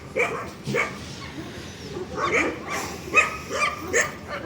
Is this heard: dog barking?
yes